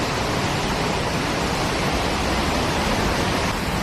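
Rushing water below the rocky canyon trail at Johnston Canyon, Banff, makes a loud, unbroken roaring wash that stays constant throughout.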